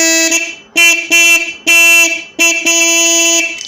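An old motorcycle horn, freshly adjusted after repair, blares loudly in four separate honks of varying length, close up and with no voices.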